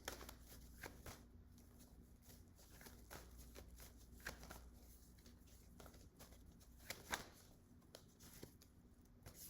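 Tarot cards being shuffled by hand, soft quiet riffling and flicking in uneven bursts, close but faint, with no talk.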